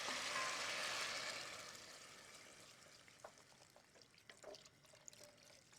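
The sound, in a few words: pouring water into a pan of braised pork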